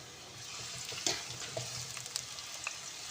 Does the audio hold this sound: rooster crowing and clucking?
no